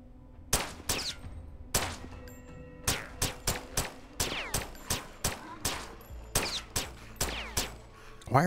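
Gunfire in the zombie video game The Last Stand: Aftermath, a rapid series of loud, sharp shots fired in a steady, slightly uneven rhythm, each with a short ringing tail, close and continuous for several seconds.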